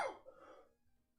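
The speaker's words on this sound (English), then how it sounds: "I was coughing and sneezing at the same time" A single explosive cough-sneeze, a person coughing and sneezing at once, bursts out loud and close, then fades into breathy throat noise within about a second.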